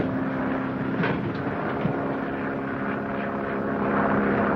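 A propeller ambulance plane drones steadily overhead, a loud continuous engine hum with a buzzing tone, no talking.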